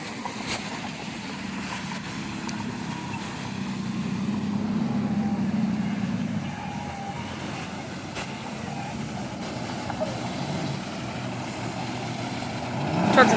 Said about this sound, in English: Truck is here.